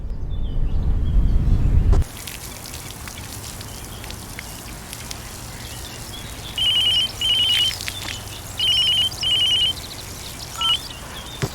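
A telephone rings in four short double bursts, fairly clear over a steady rain-like hiss, after a loud low rumble that cuts off at the start; no one speaks.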